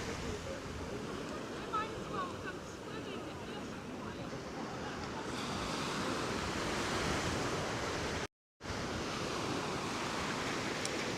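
Ocean waves wash onto the beach at Coney Island, a broad, continuous rush of surf mixed with wind buffeting the microphone and a brief dropout near the end.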